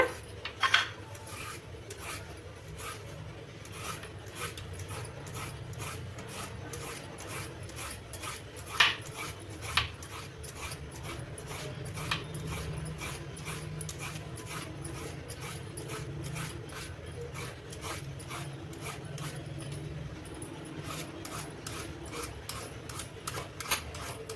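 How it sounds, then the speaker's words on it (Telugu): Raw green plantains are scraped and peeled by hand for a tomato curry, giving a steady run of close, rhythmic rasping strokes with occasional small knocks throughout, with no talking. "ఇవి కూడా ఇప్పుడు ఈ అరటికాయలు ఉన్నాయి కదా వీటిని చెక్కు తీసుకోవాలన్నమాట"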